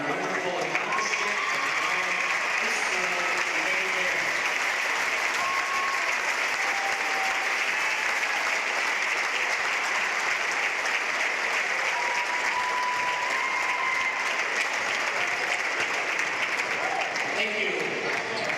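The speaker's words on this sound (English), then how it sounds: "stand and applaud Allie Miner on her wonderful accomplishment" Sustained applause from a crowd filling a school gym at a boys' basketball game, steady clapping rolling on for nearly twenty seconds with faint voices mixed in.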